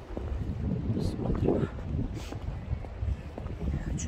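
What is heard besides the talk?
wind blowing on seaside embankment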